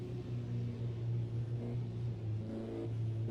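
A Formula Junior historic race car pulls into the pit lane at Imola, its engine holding a steady low droning hum at moderate distance, easing off with no sharp revs.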